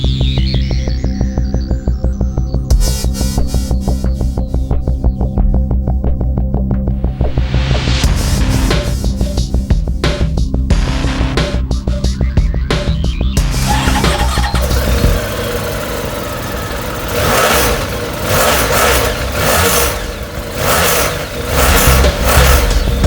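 A 2010 Honda VFR1200F DCT ABS motorcycle with 17,375 miles idles loudly close by with a steady droning hum, and the engine note shifts and roughens partway through; no one talks.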